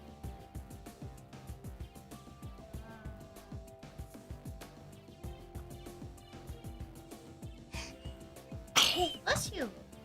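A single sharp sneeze bursts out near the end amid ongoing casual group chatter at a live trivia night, with people talking throughout.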